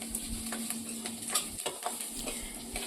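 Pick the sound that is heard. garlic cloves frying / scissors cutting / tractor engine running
garlic cloves frying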